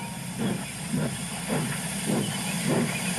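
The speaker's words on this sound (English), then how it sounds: "pulled in with his local train" A steam engine pulling a local train into a station chuffs in a steady rhythm of soft hissing puffs, about one every half second, over a constant hiss and low rumble.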